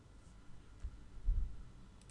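A few faint, light computer mouse clicks during SolidWorks CAD sketching, quiet and sparse against a low background hum.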